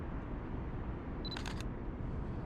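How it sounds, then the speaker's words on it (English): A quick Canon M50 camera shutter click on a Chicago street over a steady background hum, a single short burst of mechanical clicks. "I gotta turn that shutter off."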